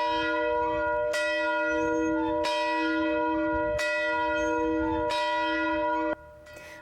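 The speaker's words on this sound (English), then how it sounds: "you can hear them ringing the large bell outside St." Large bell outside St. Joseph Catholic Church in Kennewick rung in the open air, five loud, evenly spaced strokes each leaving a long ringing hum, the last cut short.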